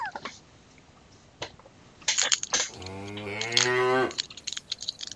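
Several people give a long, loud mooing cheer in imitation of cows, a rising and falling voiced drone that lasts about two seconds, with scattered claps and noise before it.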